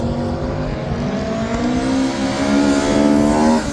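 An Austrian rallycross car driven by Dave Halford races past at Silverstone, its engine roaring loud and steady with rising revs as it accelerates, with no voices over it.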